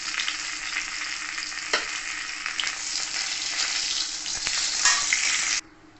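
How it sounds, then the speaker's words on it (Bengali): A fish head sizzles in hot oil in a kadai while being turned over for muri ghonto, a steady close crackling fry with small pops that stops abruptly just before the end. "মাথাটাকে আমি উল্টিয়ে পাল্টিয়ে ভালো করে আমি ভেজে নিলাম।"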